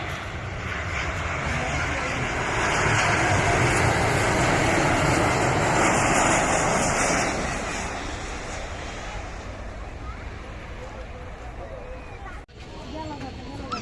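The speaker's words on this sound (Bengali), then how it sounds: "বোয়িং 737 বিমান বাংলাদেশ এয়ারলাইন্সের।" A Biman Bangladesh Airlines Boeing 737, inbound from Singapore, roars loudly as its jet engines build to a broad peak and then fade into a lingering rumble, with crowd chatter from plane spotters underneath.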